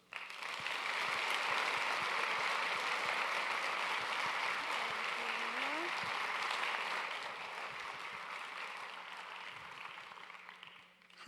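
Audience applause welcoming a speaker to a talk on sextortion and youth protection: a dense, steady wash of clapping from a room of people, holding evenly for several seconds before thinning out and fading at the end.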